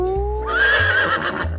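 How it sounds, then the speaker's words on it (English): A horse gives a loud, close whinny that rises and wavers before trailing off, with faint low background hum. "What is this? Indian horse."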